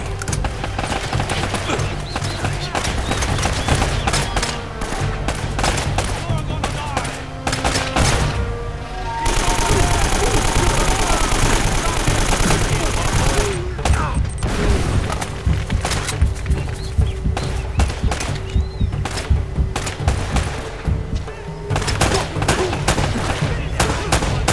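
AK rifle gunfire rattles in Uncharted: Drake's Fortune Remastered, with loud, dense bursts of rapid shots, a brief lull and then more shooting. Game sounds and voices mix in.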